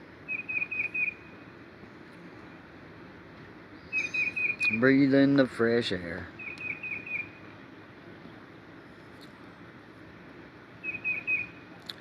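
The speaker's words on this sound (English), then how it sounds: "The birds are chirping like normal birds." Birds chirp outdoors in short, high repeated bursts at a moderate distance, coming and going around a brief spoken remark over a soft background hiss.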